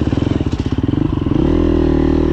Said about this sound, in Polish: Ładnie silnik chodzi.